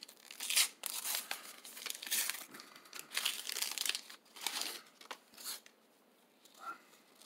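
Foil wrappers on 1990 Upper Deck baseball card packs tear and crinkle up close, in several quick ripping bursts with short pauses, and end on a softer rustle.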